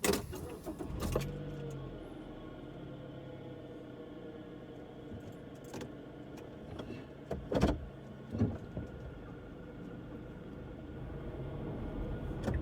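A car rides through a residential neighborhood of Winnipeg with a steady interior road and engine rumble, a few louder thumps and clunks along the way and no talking.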